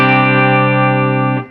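A sustained distorted electric guitar chord rings through a Headrush Revalver 3120 amp model, loud and thick with a chorus-like shimmer, holding steady before cutting off after about a second and a half.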